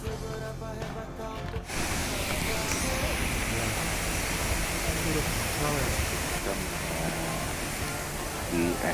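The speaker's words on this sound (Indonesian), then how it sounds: "Di air terjun setelah dari jembatan gantung tiba di air terjun" A waterfall near a suspension bridge at Situ Gunung. A broad, continuous rushing roar of falling water sets in abruptly after a short quieter musical passage and holds steady and loud.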